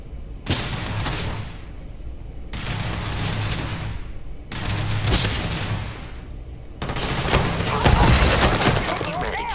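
Gunfire in the space game Starfield comes as dense, crackling bursts of rapid shots in several long stretches separated by brief cuts, loud and close, with voices calling out during the firefight.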